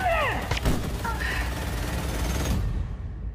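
Gunfire erupts in a tense thriller trailer scene, a dense burst of shots over a loud, busy mix with shouting voices and music around it.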